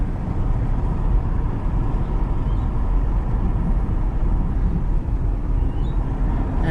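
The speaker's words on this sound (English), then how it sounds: "that's my other neighbours driving past, waving" A neighbour's car rolls past on a rural road in Australian sapphire-mining country, a steady broadband rumble of engine and tyres that stays fairly loud and close throughout.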